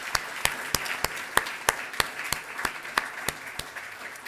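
An audience applauds at a 2022 Most Fundable Companies event at Pepperdine University. Steady, fairly distant clapping runs throughout, with sharp individual claps landing in a regular rhythm above the crowd's wash.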